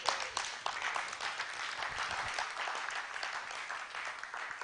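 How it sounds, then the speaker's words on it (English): An audience at a real estate conference and expo claps in a steady, dense round of applause that holds at an even level throughout, with no voices standing out. "Please, a round of applause for him again."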